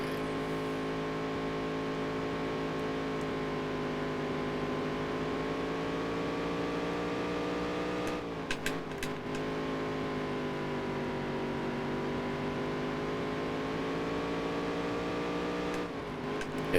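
A race car engine in the Dirt to Daytona video game holds a steady high droning rev, dips briefly during quick gear changes, then climbs back to a sustained whine, loud and continuous.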